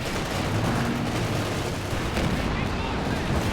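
Calliope rocket barrage in Company of Heroes 2, a dense, continuous rumble of explosions and gunfire with no clear breaks, under a commentator's voice.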